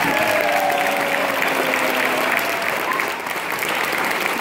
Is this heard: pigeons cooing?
no